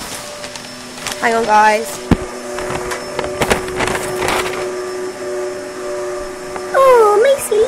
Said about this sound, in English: my dad's hoovering.